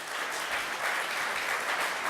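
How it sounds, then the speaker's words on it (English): A steady wash of applause from a conference audience fills the room, dense and continuous without any talking. "Round of applause."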